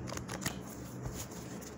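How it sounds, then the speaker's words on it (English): Quick papery riffles and soft snaps of tarot cards being shuffled by hand, close and fairly quiet, in a short irregular burst. "Hear me shuffling?"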